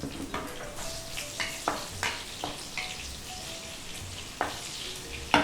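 Three green chillies, broken by hand, frying in hot oil in a pan for a fish curry: a close, steady sizzle with scattered crackles and pops, and no talking.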